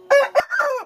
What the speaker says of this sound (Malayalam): നമ്മളെ ഇവിടുത്തെ ക്വാളിറ്റി ഉള്ളൊരു പൂവനാണ്.